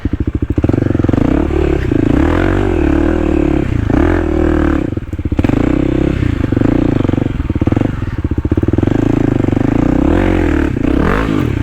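A Kawasaki KLX300 carbureted dirt bike rides a woods trail, its single-cylinder engine loud and close as it constantly revs up and down over obstacles, with clattering and scraping from the terrain throughout.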